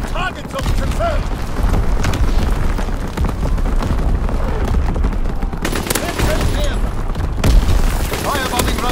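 Mortar rounds exploding in Call of Duty: WWII multiplayer, a dense, loud barrage of booms and gunfire crackle that rolls on continuously, with voices heard briefly among the blasts.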